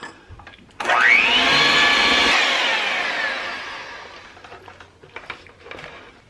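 An electric mixer creaming cream cheese whirs up sharply, runs steadily for a few seconds, then winds down, followed by faint clatter.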